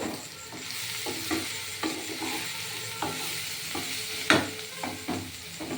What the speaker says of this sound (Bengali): আর এই মাছটা এইভাবে ভাজা ভাজা করে নিতে হবে